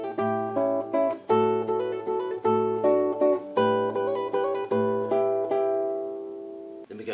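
Classical guitar plays the second section of Carcassi's Etude No. 10, a steady sequence of plucked chords and arpeggiated notes in regular rhythm, close and clear, ending on a ringing chord with no talking.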